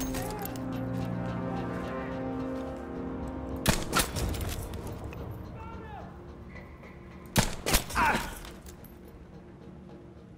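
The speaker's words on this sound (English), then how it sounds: "the guy shot at me" Two separate bursts of gunfire from an enemy soldier shooting in the video game Battlefield V, sharp cracks a few seconds apart over a quiet low ambient background.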